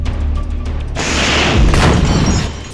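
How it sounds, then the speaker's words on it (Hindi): A rocket strike hits a military vehicle, reported as an IDF Merkava tank, in a combat setting in Rafah: a loud, close explosive boom erupts and rolls on for nearly two seconds before fading, after a short stretch of low rumbling. "इसके बाद हमास का एक दूसरा लड़ाका सामने खड़े एक सैन्य वाहन पर रॉकेट से हमला कर देता है।"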